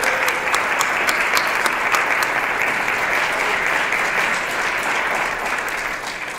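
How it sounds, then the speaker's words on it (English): A poetry inauguration audience gives a warm round of applause, dense and continuous clapping with a few sharper claps early on, holding steady before easing slightly toward the end. "I'd like to have a round of applause for Sue"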